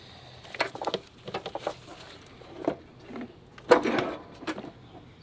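Clunks and rattles of a car battery being lifted out of a Jeep XJ, a series of short knocks and scrapes close by with quiet gaps between, the loudest clatter near the end.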